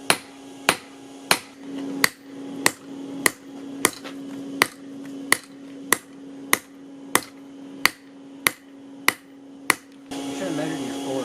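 A hammer strikes hot rebar on an anvil while a knife is forged, a steady run of sharp metallic blows about every two-thirds of a second over a constant humming forge blower.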